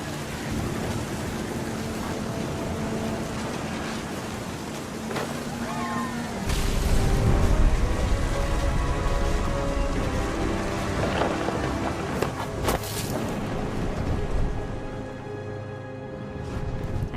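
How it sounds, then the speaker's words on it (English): Rain and thunder in the video game What Remains of Edith Finch: steady rain hiss with a deep rumble swelling from about six seconds in and sharper cracks near the end, with speech-like game sound mixed in. "Thunder sounded much too close and full of angry power"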